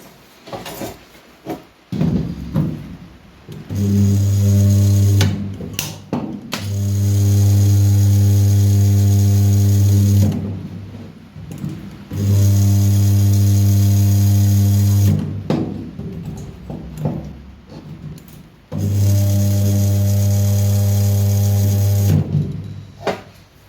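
Spot welder working on the rear arch and quarter panel of a 1974 MK3 classic Mini, four long loud buzzing welds lasting a few seconds each, separated by short pauses with clicks and handling noises between them.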